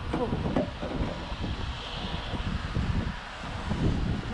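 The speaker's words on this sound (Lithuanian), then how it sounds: "šiandien šalta ir vėjas, tai čia ir vėjas dar" Cold wind blowing along a city street, a steady gusty rush buffeting the microphone with faint distant traffic rumble beneath.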